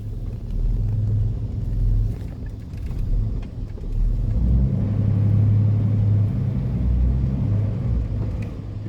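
A truck drives past near a creek, a loud, steady low rumble that swells and fades slightly over several seconds, with no voices.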